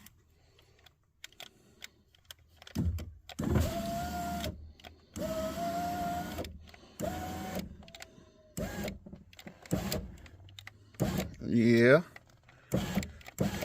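Power window regulator motor in a 2003 Chevrolet Tahoe door runs in several sustained whirring bursts as the glass goes down and up, with pauses between, and a brief spoken word.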